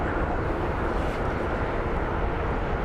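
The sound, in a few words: Embraer jet aircraft on runway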